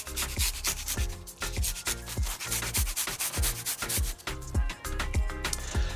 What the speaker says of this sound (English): I've got 4 garlic cloves. I'm just gonna grate them in.